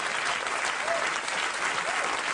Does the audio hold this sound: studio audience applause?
yes